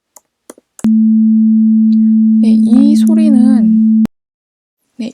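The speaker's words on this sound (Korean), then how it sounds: "지금 들으신 이 소리는 사인 웨이브 혹은 정현파라고 하는데" A loud, computer-generated pure sine tone holds steady for about three seconds, starting and stopping abruptly. A voice talks over the middle of it, and a few brief clicks come before and after.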